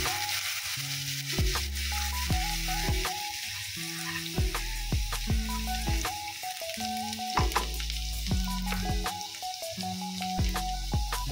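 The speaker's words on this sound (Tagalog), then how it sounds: "lagay na natin ng ating garlic. Ang ating haluin." Garlic fries in a little oil in a pan while being stirred, a loud close sizzle with repeated scraping stirs, layered over a steady melodic background tune.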